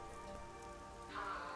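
Steady rain patters on surfaces in the video game Master Detective Archives: Rain Code, a soft continuous hiss that swells slightly near the end.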